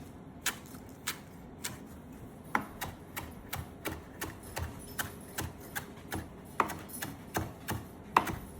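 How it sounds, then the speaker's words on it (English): A knife chops fresh basil on a cutting board for homemade pizza, giving a steady run of about twenty crisp, close cuts at a brisk, even rhythm with no voices. "Now we're going to slice up the basil."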